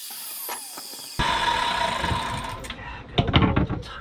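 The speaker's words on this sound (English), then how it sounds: "Give me that saw, CJ." Saw cutting into a section of rotten boat floor being replaced on a Glastron-Carlson CVX23, a loud close grinding cut that starts suddenly after a quiet stretch, with rough bursts of cutting noise near the end.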